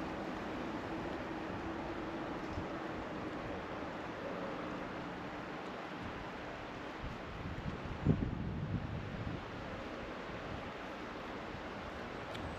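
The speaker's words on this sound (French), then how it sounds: "il y a beaucoup de vent" Strong wind blowing at the Saint-Barthélemy dam during feeder fishing, a steady broad rushing roar buffeting the microphone with a slightly louder gust midway, no voices.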